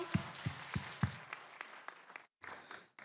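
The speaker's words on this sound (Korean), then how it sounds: "주님께 영광의 박수 올려드리겠습니다." Congregation clapping during a Wednesday evening Korean church service, faint and distant, opening with a few evenly spaced claps that give way to a soft, scattered patter, then a brief silence before it resumes quietly.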